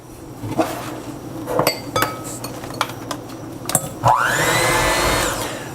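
A blender starts up and whirs steadily for several seconds after scattered clinks of dishes and utensils, while making banana nut muffins.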